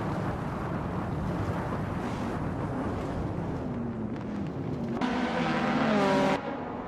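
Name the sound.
1966 Lotus Cortina Mark 1 racing at Donington Park, racing video game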